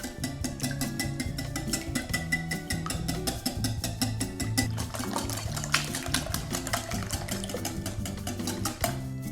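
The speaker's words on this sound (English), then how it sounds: "Whisk it all together." Eggs seasoned with salt, black pepper and garlic powder are whisked in a bowl, producing a steady, fast rhythmic clicking and sloshing that runs throughout over a low tonal background.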